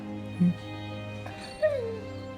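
A dog in a TV drama episode gives two short, brief whimpers about a second apart, over a steady low hum with no talk.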